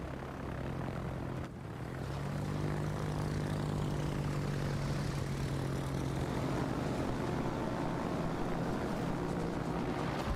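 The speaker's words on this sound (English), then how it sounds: "it's bringing torpedo bombers over to me" Torpedo bombers in the naval combat game World of Warships drone steadily overhead, a loud propeller engine hum that holds for about ten seconds after a brief dip, with a wash of sea noise beneath.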